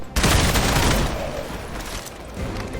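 Heavy gunfire blast from the video game Marvel Midnight Suns, a loud sudden burst that rolls into a dense roaring wash and slowly fades, with no talking.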